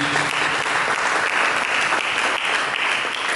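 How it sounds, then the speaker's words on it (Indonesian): Loud, dense applause from a church congregation during a sermon, a steady continuous wash of many hands clapping at once, close and full, with no pauses. "Mari kita berikan tepuk tangan ini."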